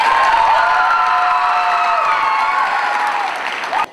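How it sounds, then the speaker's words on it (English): Loud crowd applause and cheering in a gym for five senior players at a high school girls basketball game, sustained clapping with shouts and whoops throughout before cutting off abruptly at the end. "Fans, please give a round of applause for our 5 seniors"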